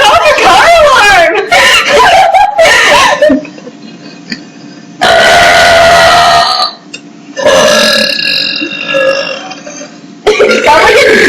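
Three girls hold a burp contest, letting out a run of loud, drawn-out burps one after another, with giggles and squeals between them and talk in between.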